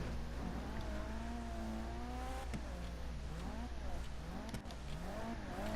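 A car pulls away in GTA V Online, its engine note climbing and shifting through gears at steady volume, with a voice talking over it.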